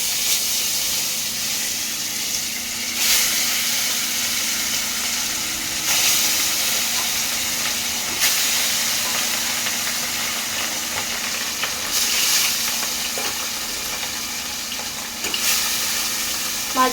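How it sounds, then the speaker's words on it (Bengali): Pieces of catla fish fry in hot oil, giving a continuous hiss and sizzle that swells in broad bursts every few seconds, close and fairly loud, with no talk. "মাছগুলো আমি লাল লাল করে ভেজে নেবো"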